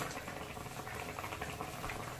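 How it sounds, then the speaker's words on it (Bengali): Mourola fish sour curry simmers in a pot, a steady close bubbling and popping boil that continues unbroken and evenly loud with no voices. "তো এবার আরো 2-3 মিনিট ভালো করে ফুটিয়ে নেব।"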